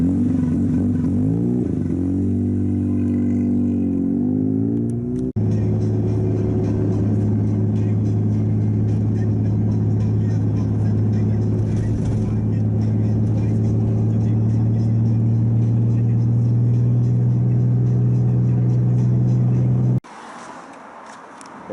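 A rebuilt 13B rotary engine in an FC RX-7 drones steadily from inside the car while driving, with an early rise in revs, a long sustained cruise hum, then a sudden drop in level near the end.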